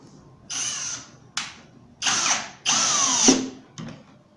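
A cordless drill drives 6 x 1-1/4 inch screws into melamine in five short bursts, the motor whirring up and slowing as each one seats, close and clear with no talking.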